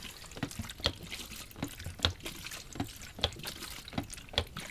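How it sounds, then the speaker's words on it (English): Liquid is agitated inside a film developing tank during development, giving a run of rhythmic, faint sloshing bursts roughly every half second, close and alone with no talk. "Agitating for 5 seconds every minute."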